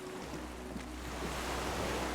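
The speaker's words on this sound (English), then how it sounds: "The skiff is swaying on the waves by the dock." Gentle waves lap and slosh steadily against a small wooden skiff moored at a dock in the Disco Elysium video game, a soft continuous watery wash with a low rumble beneath and no voices.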